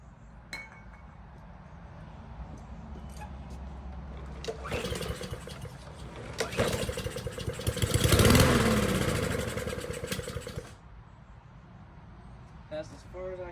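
A lawn mower engine, its airbox sprayed with brake cleaner, cranks and catches briefly with a rough, rising roar, then sputters back down. Light clinks are heard before and after it, and a person talks.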